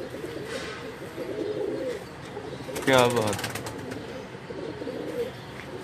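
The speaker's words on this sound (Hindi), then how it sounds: "ये मेरा जी गोल्डन कबूतर है" A golden pigeon coos close by, a soft throaty call rising around the middle, while someone talks over faint background murmur.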